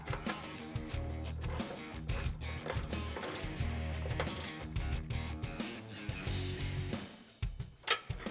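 A ratchet wrench clicks rapidly in repeated bursts, close up, while tightening bolts on the nerf bar bracket of a 2021-2022 Bronco 4-door, with a few sharper knocks near the end.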